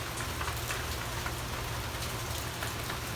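Steady rain pours in Key West, a dense, even hiss of drops striking surfaces with scattered nearby patters, constant and close with no voices.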